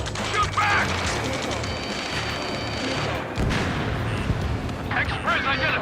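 Battle gunfire and explosions in the video game Ace Combat 7: Skies Unknown, dense and loud throughout, with a heavy burst partway through, under shouted radio chatter.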